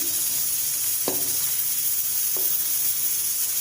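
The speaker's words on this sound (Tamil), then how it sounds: "ஒரு பக்கம் வெந்துருக்குள்ளே இன்னொரு பக்கம் வேகட்டும், அந்த ஆயிலே வேகட்டும்" Brinjal pieces fry in oil with masala, giving a steady, close sizzling hiss throughout, with a couple of light stirring knocks against the pan.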